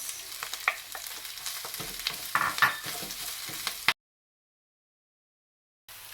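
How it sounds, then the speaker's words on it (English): Cabbage, carrots and broccoli are stir-fried in a pan, with steady loud sizzling and scraping stirs for about four seconds, then sudden silence before the sizzle returns briefly. "now we're going to put in the cabbage and the carrots and the broccoli"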